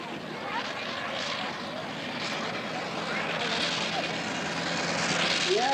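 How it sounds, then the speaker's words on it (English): An Aerodrome 504 replica airplane with an original 110 hp engine runs at a show runway, a steady moderately distant engine drone with broad wind-like noise and faint voices underneath. "The Aerodrome 504, replica airplane powered with an original 110 horsepower reloading up at the runway, flipping the engine on and off."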